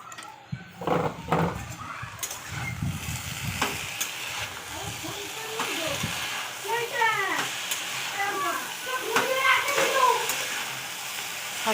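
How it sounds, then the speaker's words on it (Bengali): Leafy greens sautéing in a pan with a ground mustard-ginger paste, turmeric and chili powder: steady sizzling and frying hiss with stirring scrapes and clatter, and a voice talking over parts of it. "শাকটা তো খুব সুন্দর করে সাঁতলা নিতে হবে, খুব সুন্দর করে ভাজা ভাজা করে নিতে হবে।"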